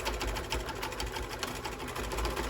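A sewing machine runs steadily through fabric while back stitching a headband bandana, a continuous close mechanical whir with rapid needle rhythm and no talk.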